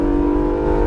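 An Acura NSX on a track under full throttle, its engine note a loud, sustained, steady drone with strong harmonics, heard close from inside the car with no talk.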